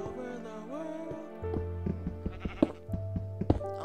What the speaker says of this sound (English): Oh, I hear sheep outside.